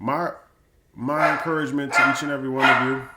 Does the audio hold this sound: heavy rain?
no